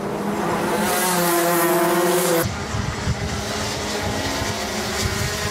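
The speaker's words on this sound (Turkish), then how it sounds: "Ayda hemen gaza yüklendi ve Mert Ali'yi geçti" Go-karts race on a resurfaced karting track at Tuzla Karting Park, their engines whining loudly as they pass close by, with a shift in pitch halfway through and a steady roar.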